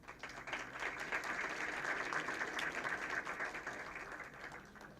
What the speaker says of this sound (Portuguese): a quem eu peço uma salva de palmas